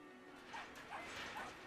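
Dog in the Brothers: A Tale of Two Sons video game, a few faint, short barks and whimpering yips spaced about half a second apart against a low game background.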